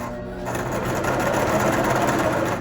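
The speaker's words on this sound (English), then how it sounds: "I'm going to go ahead and zigzag along the raw edge on this folded piece" Sewing machine zigzag-stitching along the raw edge of a folded piece of fabric for a pixie-style surgical scrub cap, a fast continuous mechanical whir that runs steadily and close with no talking.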